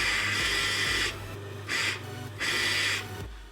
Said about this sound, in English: Just going to hold the motor under tension and see if it even works.